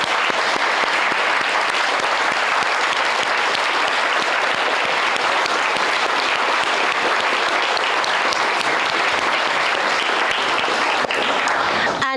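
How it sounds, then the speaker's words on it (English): A large audience applauds teachers at a Shakespeare performance competition grand final, with steady, dense clapping that stays loud and continuous throughout. "can we give a big round of applause to the teachers?"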